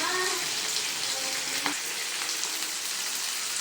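Chopped tomatoes fry in oil in a pan, a loud, even sizzle and hiss that stays steady throughout, with a couple of faint clinks and no clear talking.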